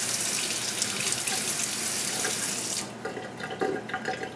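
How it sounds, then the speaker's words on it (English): Water runs from a kitchen tap into a sink in a steady gush, then cuts off, leaving a few small trickles and clinks near the end. "So my tap has a drip."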